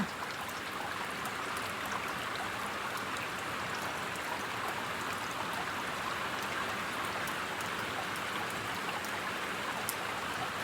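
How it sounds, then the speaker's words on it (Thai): Steady rain falls outdoors around a garden with trees and cherry blossoms, a dense, even hiss with soft scattered drops that holds unchanged for the whole stretch, with no voices. "อันนี้ก็มาถ่ายบรรยากาศฝนตกให้ดูนะคะ"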